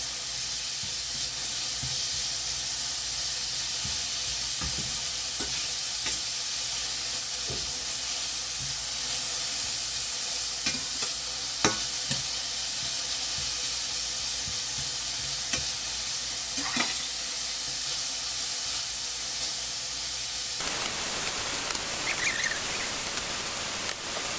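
Carrots stir-frying in a hot pan for Korean japchae, a soft continuous sizzle with scattered light scraping and stirring taps, ending in a brief hissy burst.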